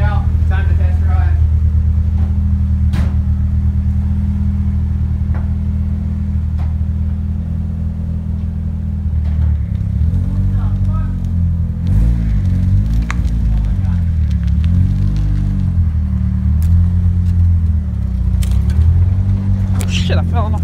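A Nissan 240SX drift car backing out in cold weather, its engine a loud, steady low rumble throughout with slight revving swells in the later half, with people talking over it.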